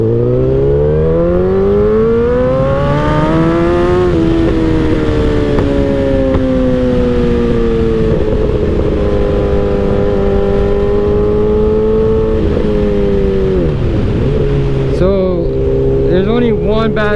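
A 2008 Suzuki GSX-R 1000cc sport motorcycle engine revs up and holds high, its loud, buzzing tone climbing and settling over several seconds, dipping briefly near the end before rising again.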